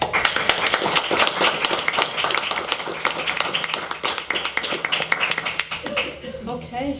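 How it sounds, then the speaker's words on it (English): A small audience at an art school talk breaks into clapping: dense, crisp hand claps at moderate volume that thin out and fade near the end, with a voice starting up under the tail. "You deserve the applause, not anybody else."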